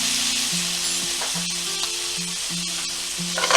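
Minced garlic, about a tablespoon, sizzles steadily in a hot pan with green beans and bacon, a continuous close frying hiss with faint stirring scrapes and no voices.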